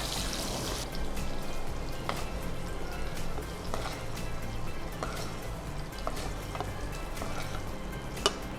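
Soybean chilli frying in oil in a pan, a steady close crackle and hiss running throughout, with occasional scraping stirs and small clicks.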